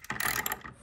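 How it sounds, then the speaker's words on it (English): A bolt is turned by hand with a ratchet-type tool, clamping timber roof rafters together against a steel RSJ beam; a short burst of dense clicking and grinding mechanism noise, close and fairly quiet, with no speech. "nice and tight, and that bolt is tightening right in."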